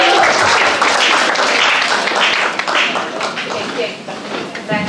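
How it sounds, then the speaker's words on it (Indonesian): A church congregation applauds together in a dense, loud burst of clapping that gradually thins out, with voices mixed in. "Kita kasih tepuk tangan sekali."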